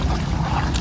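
Water sloshes and splashes steadily against a moving fishing boat in the Sundarbans, a continuous close wash with low rumbling underneath.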